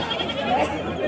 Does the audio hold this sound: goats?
yes